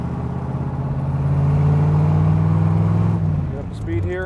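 A 1966 Chevrolet Corvette convertible accelerates on the road after a downshift, the engine note rising and swelling loudly before easing off near the end as a voice briefly cuts in.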